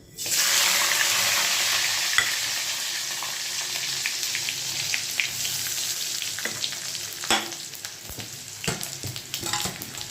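Onion and garlic dropped into hot oil burst into a loud, steady sizzle that stays dense and hissing throughout, with occasional scraping clicks of stirring and no voices.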